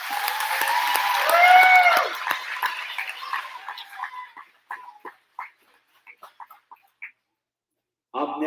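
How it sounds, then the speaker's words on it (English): Applause from an audience in a school award assembly, a dense burst of clapping that peaks and then thins into scattered claps, followed by a short burst of nearby voices. "Give him a round of applause."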